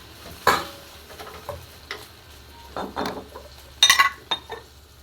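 Fish sauce poured into afritada in a pan, a soft sizzle with stirring, utensil scrapes and clinks against the pan in irregular bursts.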